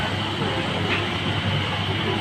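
Steady low rumble of a Singapore MRT metro train running along the rails in the rain, continuous and fairly loud with no voices.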